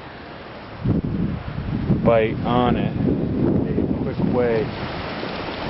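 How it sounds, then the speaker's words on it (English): Steady wind buffeting the microphone with low rumbling gusts, while someone talks over it. "as you can hear the wind that I'm freaking trapped in right now"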